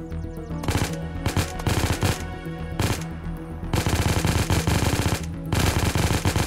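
Rapid automatic gunfire in the survival shooter Unturned, sustained bursts of close, loud shots separated by short pauses, with game music or ambience underneath and no talk.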